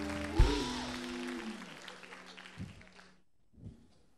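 A studio audience at a televised stand-up comedy show claps in applause for about three seconds, mixed with voices and fading out to near silence.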